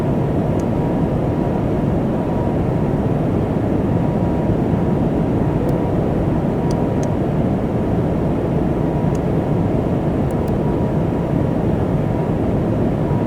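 Steady, broadband cabin roar of an Airbus A220 in climbing flight after departure from Hollywood Burbank in Flight Simulator 2024, a continuous even wash of engine and airflow noise with a few faint high clicks.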